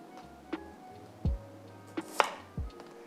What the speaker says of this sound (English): So the big ones, I'm going to halve them.